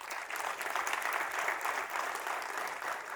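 Audience applause at a public speech event, a steady dense clapping from a crowd that holds at an even level throughout with no speech over it.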